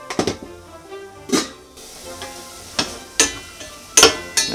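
Bacon and garlic frying together in a pan for a tartiflette, a soft sizzle punctuated by several sharp clatters of stirring against the pan.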